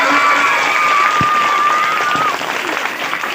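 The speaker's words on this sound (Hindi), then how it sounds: "माँ के लिए एक जोरदार ताली" An audience at a coaching centre stage show breaks into steady, loud applause, with crowd noise and a thin high whistle-like tone over the clapping, which fades slightly near the end.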